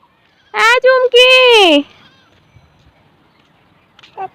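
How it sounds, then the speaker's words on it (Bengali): A goat gives one loud, close, wavering bleat in two quick pulses, then near-silence with faint rustling and a brief sound at the end. "এটা দাদার ছাগল"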